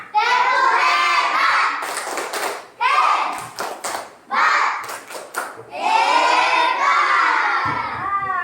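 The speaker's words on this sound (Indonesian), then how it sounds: "Berikan tepuk hebat untuk kita semuanya" A classroom of young children doing a patterned cheer clap, loud bursts of rhythmic clapping broken by their shouted chanting, close and lively, repeated in several rounds.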